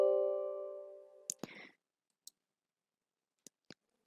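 A few sharp, isolated computer mouse clicks, quiet and spaced apart after a fading tone, with silence between them.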